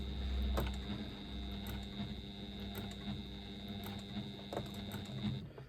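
A home sewing machine runs steadily while stitching across a twist pouch, a continuous mechanical hum with faint rhythmic needle ticks, fairly quiet and alone.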